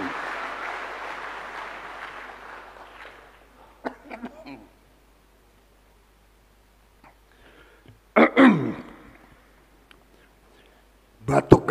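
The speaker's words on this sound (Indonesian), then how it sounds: "Batuk karena semangat." During a speech by the Indonesian President, a voice trails off, then after a quiet gap come a few separate, close coughs, spaced several seconds apart.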